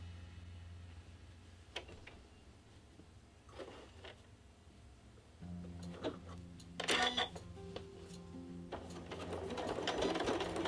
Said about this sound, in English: we're gonna sew that same 1/4 inch seam all the way down the side